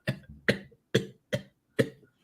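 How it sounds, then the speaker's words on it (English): Five short, sharp coughs come in a close, uneven series after a fit of laughing, each a brief burst from one nearby person, with quiet gaps between. "I was laughing so hard I started coughing."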